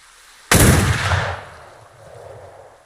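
A ship's cannon fires once in the naval game Atlas, a loud, close boom with a sharp onset and a rumbling tail that fades over a couple of seconds.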